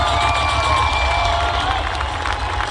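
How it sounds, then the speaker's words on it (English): Crowd at a Bud Crawford boxing celebration in Omaha cheering and clapping, a loud sustained roar with shouts and whoops layered over applause. "Give him a round of applause."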